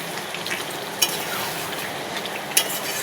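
Chicken with meat masala being sautéed and stirred in a pan for chicken do pyaza: a steady, close frying hiss runs throughout, broken by two sharp spatula scrapes about a second and a half apart.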